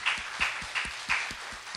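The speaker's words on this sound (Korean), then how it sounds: "다시 한번 우리 살아계신 하나님께 큰 영광의 박수 올려드립니다" A church congregation claps in unison during an evening worship service, about three sharp beats a second in a steady rhythm, with no voices over it.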